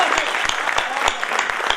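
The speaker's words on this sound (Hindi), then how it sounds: "तालियों की गूंज से हिला दो ऐसा आसमान" An audience at a Hindi comic poetry gathering claps in a dense, lively burst, steady and fairly close, with no voices over it.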